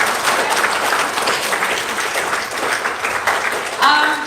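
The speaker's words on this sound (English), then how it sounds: "So big round of applause again" Applause from an audience at a Guam Department of Education program ceremony, a steady wash of many hands clapping for about four seconds, fairly loud, with a brief voice-like tone near the end.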